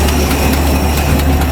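Engine idling steadily after a fuel pump replacement, with an exhaust leak present, a loud close continuous low rumble with a faint pulsing throb and no talking.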